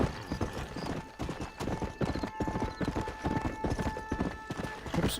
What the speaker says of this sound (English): There we go, there's my horse.